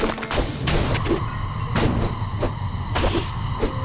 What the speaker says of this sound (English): That's the sound of corpse explosion.